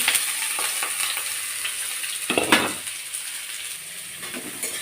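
Onions sizzle in a pan with bay leaf, cinnamon, cardamom, cloves and cumin, a steady close frying hiss with a few louder stirring scrapes of a utensil midway.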